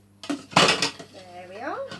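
Dry rice is poured into a pan for a seafood pilau, giving a short rattling, hissing clatter against the metal, followed by a person speaking close by.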